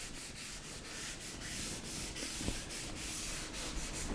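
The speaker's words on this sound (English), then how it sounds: "Hear that where it's been sanded." Hand sanding of a guitar body being prepared for a clear coat, steady rhythmic scratchy strokes back and forth at a quick even pace, close and fairly quiet, with no talking.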